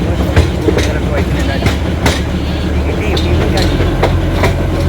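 The Darjeeling toy train rumbles along the rails with steady low clatter and periodic clicks of the wheels, continuous and fairly loud throughout.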